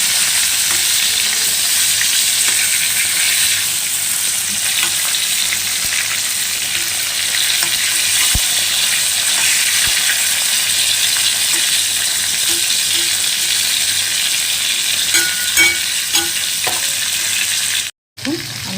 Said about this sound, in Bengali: কই মাছগুলো বেশি ভাজিয়ে হ্যাঁ হালকা করে ভেজেছি আস্তে আস্তে করে